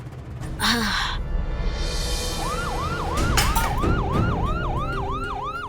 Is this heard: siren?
yes